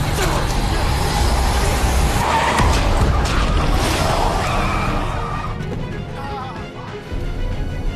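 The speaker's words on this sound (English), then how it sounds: "The fat guy gritted his teeth, floored the gas pedal, and rammed straight into it." A car floors the gas and skids in a dramatic film scene, a loud sustained roar with tire noise and rushing engine sound that eases toward the end, with voices mixed in.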